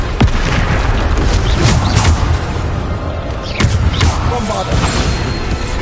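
Bombarda spell explosions in the Hogwarts Legacy video game, several loud booming blasts amid dense, continuous spell-combat noise.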